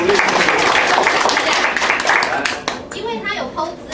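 A seminar audience applauds, loud, fast, dense clapping near at hand that thins out toward the end, with some voices mixed in.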